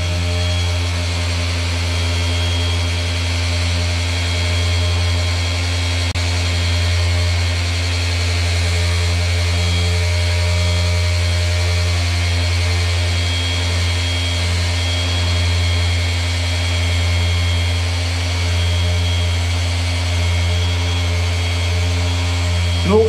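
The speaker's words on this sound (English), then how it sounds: "If I polish in that valley, it's going to stall" Flex PXE mini polisher working a car body panel, a steady close motor whine and hum running continuously and loud throughout with no talk over it.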